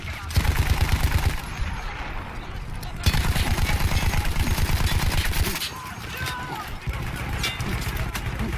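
Rapid bursts of a mounted machine gun firing in Battlefield 1, a World War One shooter, as a player uses a gun emplacement taken from Austro-Hungarian troops; loud, steady strings of fire broken by short pauses.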